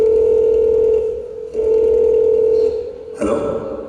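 A telephone dial tone drones steadily and loudly while a call is placed, breaking off briefly twice before a click and a shift in the line sound near the end.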